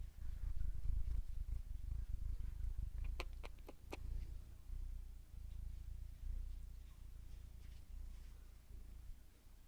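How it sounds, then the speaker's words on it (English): A cat purrs in a low, continuous rumble close up, with a brief series of sharp clicks midway. "Oh, he's already purring."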